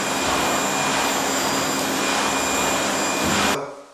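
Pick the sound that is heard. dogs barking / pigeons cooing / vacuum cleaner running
vacuum cleaner running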